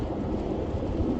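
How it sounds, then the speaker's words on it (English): Heavy rain starting to pour over an outdoor flea market, a dense, continuous low roar of falling water heard close and steady with no talking. "it's starting to pour right here now"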